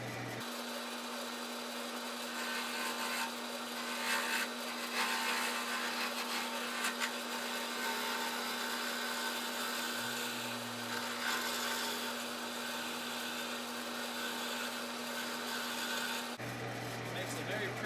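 A lathe spins acrylic paint and epoxy resin pen blanks on a mandrel, a steady motor whine with rough cutting noise layered on top, continuing for most of the stretch before shutting off near the end.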